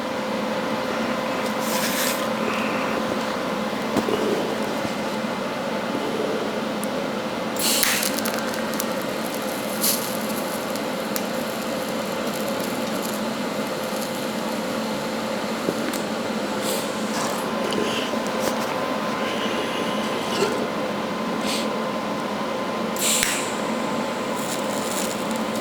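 Welding bead run along the top of a metal cow head sculpture, a steady crackling hiss that holds close and even for the whole stretch, with a few sharper pops and scrapes along the way.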